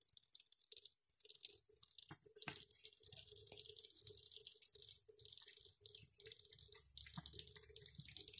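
Water trickles from a kitchen tap while a pet drinks from it, a thin steady stream with soft lapping and dripping close by.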